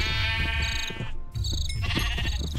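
White sheep in the video game Minecraft bleat repeatedly, loud and close, with a short pause between calls and no talk.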